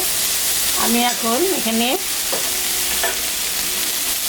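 Dhenki greens sizzle steadily in a hot pan while being stirred, and a voice briefly speaks over the constant frying hiss.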